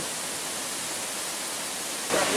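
The Padawatu waterfall pours as a steady, dense hiss of rushing water, loud and unbroken, getting a bit louder toward the end.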